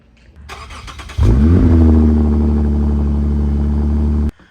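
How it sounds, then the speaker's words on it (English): A Lexus car engine starts and revs as it is driven into a garage, a loud steady running drone after a brief cranking clatter, then cutting off abruptly. "I'm gonna pull the car in now"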